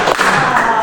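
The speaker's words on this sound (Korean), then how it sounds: "맞았다는 박수로." Children applauding in a church children's class, a brief burst of close, dense clapping under a noisy room.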